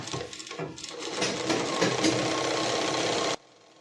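A sewing machine stitches pleats on a lehenga in one steady, close, rattling run of about three seconds that cuts off abruptly into silence.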